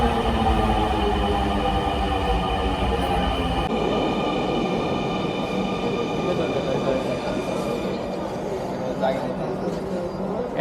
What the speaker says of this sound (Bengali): অপেক্ষার অবসান ঘটিয়ে মেট্রো রেল চলে আসছে